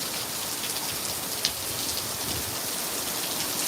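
Heavy rain pours down across a parking lot during a thunderstorm livestream, a dense, steady hiss of drops hitting pavement and surfaces, close and continuous, with one brief sharper tap partway through.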